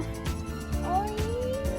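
A cat at an elephant camp in Nan, Thailand, gives one short rising meow, fairly faint amid steady background noise and low thumps.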